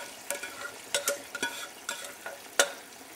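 Boiled potatoes going into a pan of Indian potato egg curry, giving a few soft scraping and stirring knocks with light sizzling between them, close and fairly quiet.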